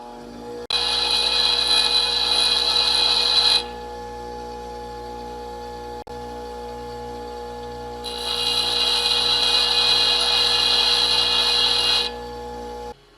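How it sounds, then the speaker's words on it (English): Grinder sharpening the teeth of a dull hole saw, a bright high grinding hiss in two passes of about three and four seconds over a steady motor hum, close and fairly loud. "I'm going to sharpen it back up again, and we'll try and finish our hole"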